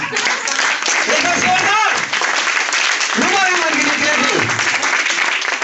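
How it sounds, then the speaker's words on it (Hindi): An audience claps in steady, sustained applause while a voice speaks over it. "तालियां बजाइए एक बार"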